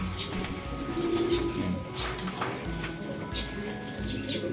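Soft, low racing pigeon coos repeat at a moderate distance at a pier over a faint background murmur.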